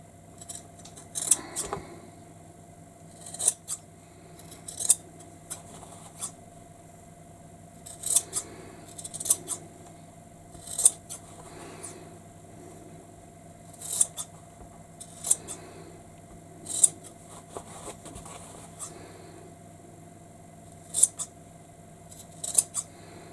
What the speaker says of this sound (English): we want to trim the corners